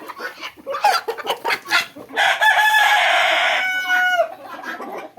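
Original Tiger breed chickens at a bird shop on a road in Bakshiganj, Jamalpur, cluck in quick close bursts before a long loud rooster crow rings out, followed by more clucking.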